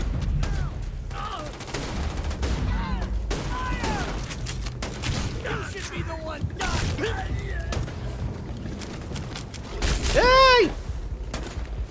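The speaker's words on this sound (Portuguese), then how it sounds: "Quem tá aí atirando?" Gunfire in the sci-fi shooter Starfield: scattered shots and thuds in a busy battle mix, with a brief shout and talk over it and a louder burst near the end.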